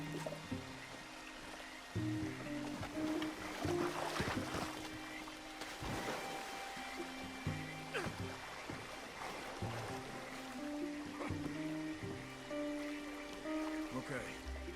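A canoe paddled upriver in Red Dead Redemption II, with repeated paddle strokes and water splashing over a steady wash of river flow. Background music and a talking voice continue underneath throughout.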